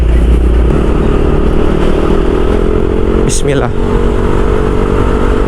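A Yamaha Aerox scooter's engine drones steadily beneath the rider on a busy road in Cakung Cilincing, heavy wind buffeting throughout, and a short spoken word cuts in partway.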